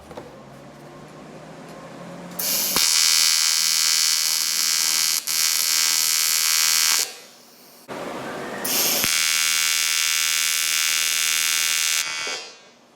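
TIG welding torch running on acetone-cleaned metal pieces, a harsh steady buzzing hiss in two long passes with a short pause between, loud and close.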